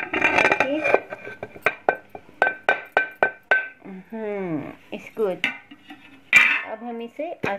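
Salt, cumin, turmeric, coriander, star anise flower, red chilli and garam masala for shami kabab get stirred in a bowl, a spoon striking it in a quick run of sharp clinks and scrapes, with a voice talking in between.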